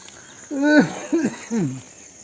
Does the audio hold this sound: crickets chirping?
yes